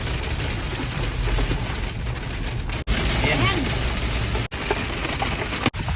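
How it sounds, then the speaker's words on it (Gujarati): Hail and heavy rain pound a road in Rajasthan during a lightning storm: a dense, steady roar of close drops and pellets that fills the whole stretch, with brief dropouts and a faint voice underneath. "કરા પડવા માંડ્યા"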